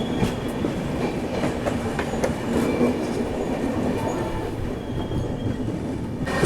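The 12861 Visakhapatnam–Mahbubnagar SF Express rumbles steadily from inside the moving train, with a continuous heavy rolling roar, repeated wheel clatter and brief metallic squeals.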